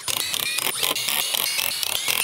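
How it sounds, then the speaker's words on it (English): Screw driven into a composite rail picket, giving a close, rapid whirring and ratcheting drive with small clicks and creaks throughout. "I'm gonna go ahead and run the screw through it."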